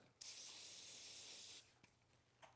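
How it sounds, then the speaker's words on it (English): A continuous aerosol spray hisses loudly onto electric shaver foils for about a second and a half, then stops, followed by a few faint clicks and a short second puff. "Sterling's Gold now. I just like to spray"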